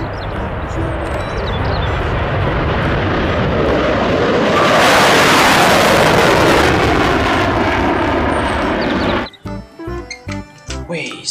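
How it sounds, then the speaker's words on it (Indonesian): A fighter jet passes overhead with a loud, broad roar that swells to a peak midway and then cuts off sharply, leaving scattered nearby sounds. "Ada pesawat jet tempur."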